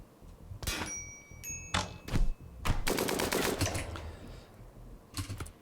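Gunfire in the video game The Wolves: scattered single sharp shots followed by a rapid automatic burst, fairly distant and moderately loud, with a couple of faint later cracks.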